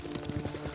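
Close hoofbeats from a ridden horse in the video game Ghost of Tsushima, a quick rhythmic clip-clop lasting under a second over a low ambient bed.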